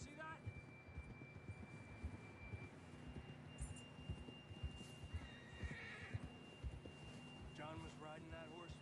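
A horse in the video game Red Dead Redemption 2 whinnies loudly while its hooves clip-clop steadily. A faint tonal hum runs underneath, and voices talk over parts of it.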